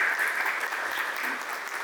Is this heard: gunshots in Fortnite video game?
no